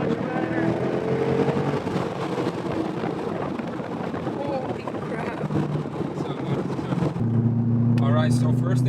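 A C6 Corvette accelerates hard, its engine droning loud and steady from inside the cabin under wind roar, with a rising note near the end, while voices talk over it.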